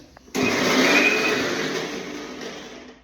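A mixer grinder starts abruptly and runs loud and close, whirring steadily as it grinds vada batter, then eases off slightly toward the end, with no speech.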